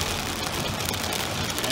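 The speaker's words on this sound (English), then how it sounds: "And it is raining." Rain falls in a steady, broadband hiss with a constant patter, moderately loud and continuous throughout the short stretch with no talking.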